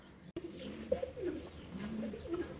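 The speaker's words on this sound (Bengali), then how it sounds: "অবকর ভাই, ভাই এটা কি কবুতর ভাই?" Fancy pigeons coo softly at a pigeon farm in Natore, a few low burbling calls in a quiet indoor setting after a brief click at the start.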